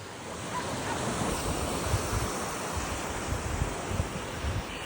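Surf washes continuously onto a beach, a dense, steady roar of breaking waves with wind buffeting the microphone.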